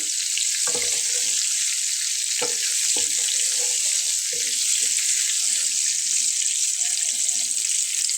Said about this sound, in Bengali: ডিমটা একটু লাল করে ভেজে নিতে হবে